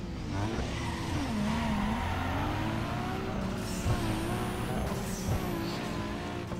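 A Nissan Skyline with a stock engine races in Need for Speed Underground 2, its engine droning and revving continuously with tire squeal and skidding, steady and loud throughout with no talking over it.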